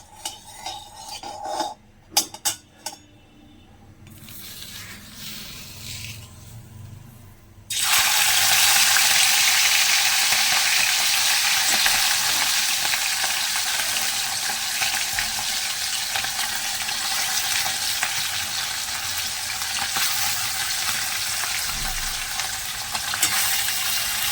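After a few clinks and soft handling noises, fish drops into hot mustard oil and a loud, close, steady sizzle erupts and carries on without a break, with no one talking.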